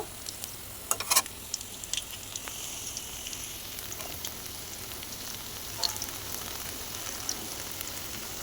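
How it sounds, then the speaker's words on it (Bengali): Ripe banana fritters frying in hot oil give a steady, soft crackling sizzle, with occasional sharper pops and light clicks of stirring, alone and fairly quiet throughout. "আমি এইভাবে সবগুলো বড়াকে ভেজে নেব"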